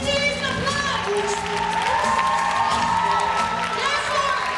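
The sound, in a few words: audience applause for the Mongolian Week team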